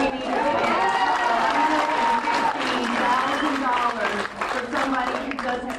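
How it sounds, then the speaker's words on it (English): Applause and crowd noise rise at a school board meeting, a continuous wash of clapping and voices with talking mixed in, moderately loud and somewhat distant. "that applause was short-lived, turning to boos and unrest"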